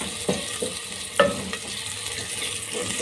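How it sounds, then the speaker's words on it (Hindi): Onions frying in a pan over medium heat, a steady soft sizzle broken by a few louder stirring scrapes near the start and middle, close and alone with no talk. "1 मिनट तक हमने प्याज को भून लिया"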